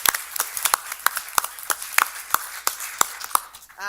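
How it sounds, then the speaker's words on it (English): A small audience at a city council meeting clapping, sparse and uneven with distinct individual claps spaced across a few seconds, fairly close. "A round of applause for your dedication and hard work"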